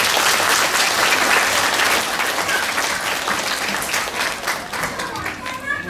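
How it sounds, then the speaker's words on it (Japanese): An audience of parents and children at a family concert breaks into sustained applause, with dense clapping that gradually thins, while children's voices and murmuring are heard underneath. "もう一度会場のお友達に拍手。"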